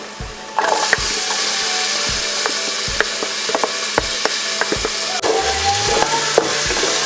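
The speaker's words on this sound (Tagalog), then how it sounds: "Hintayin po natin na medyo mag-light brown po yung ating bawang." Garlic frying in oil in a pan, the base for a Bisaya beef stew, gives a steady close sizzle with light scrapes and clicks of stirring throughout, and no talking.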